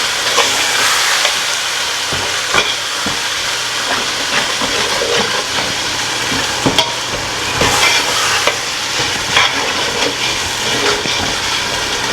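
Ginger garlic paste fries for chicken dum biryani with a loud, continuous hissing sizzle, punctuated by intermittent spatula scrapes and knocks against the pot, up close and without speech.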